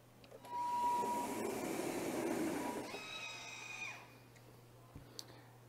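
Factory Cat floor scrubber with its scrub deck lowered, running in a loud motor whir with a brush scrub for a few seconds, then a higher whine that winds down and leaves a quiet hum.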